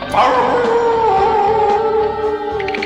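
Cartoon dog from a 1990 Garfield and Friends episode gives a long, loud wavering howl that bends in pitch, close up with no talk over it.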